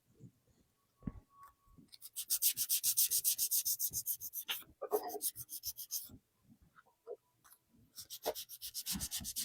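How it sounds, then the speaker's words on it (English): Rice paper decoupage is hand-sanded in quick rhythmic strokes, close and crisp scratchy rasping in bursts with short pauses, plus a few soft taps and handling noises. "Just give it a little sand."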